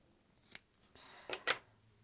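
Scissors trim the yarn ends of a crochet tassel, making a few quiet, close snips and clicks spread over about a second, with a soft rustle between them.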